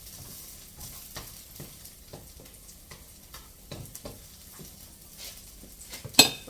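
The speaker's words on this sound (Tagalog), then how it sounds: "Gisa-gisa muna natin si bawang." Garlic sautéing in a pan for fried rice made from leftover rice, a quiet steady sizzle broken by soft spatula scrapes and stirring taps, ending in a sharp clatter of utensil against pan.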